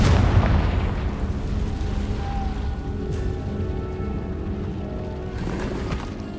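A fiery spell explosion in the Hogwarts Legacy video game opens with a heavy low boom that rolls off into a sustained rumbling tail, with faint tonal game ambience beneath.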